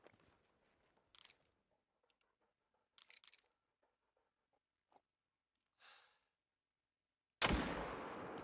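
A single sharp, loud hunting rifle shot cracks out near the end, following several seconds of faint scattered clicks and rustles in the hunting game Hunter: Call of the Wild.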